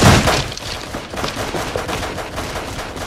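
Rapid gunfire rattles through a horror film scene, a loud burst of dense, repeated shots that starts strongest and continues in quick bursts.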